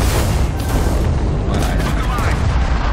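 Ship gunfire and explosions from the space game Starfield form a loud, dense barrage of booms and blasts that rolls on without a break through the whole stretch.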